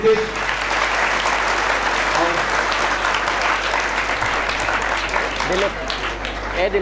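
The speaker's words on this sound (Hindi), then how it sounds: "तो एक बार जोरदार तालियां सभी के लिए।" Sustained applause from an audience at a gathering, dense and steady for several seconds, with faint voices mixed into the clapping.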